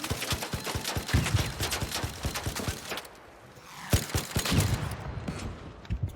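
Rapid gunfire in the shooter game ARC Raiders, dense bursts of shots with a brief lull before another volley, loud and near.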